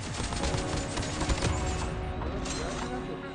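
An AK-47 fired in the mobile shooter game Call of Duty Mobile gives rapid sustained bursts of crackling automatic gunfire with a slower fire rate, fairly loud and continuous, tapering toward the end.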